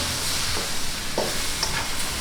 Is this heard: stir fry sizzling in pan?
yes